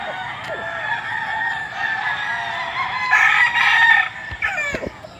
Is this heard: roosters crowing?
yes